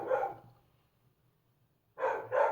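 Dogs barking close by: a loud burst of barking at the start fades into near silence, then two sharp barks follow in quick succession.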